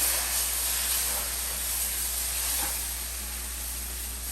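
Steady hissing sizzle of water poured a little at a time into a hot pan of fish curry masala, continuous and fairly loud throughout with no voices.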